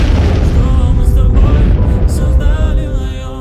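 A landmine detonates in a war film scene, a loud, deep boom that fills the clip with heavy rumbling debris and slowly fades toward the end.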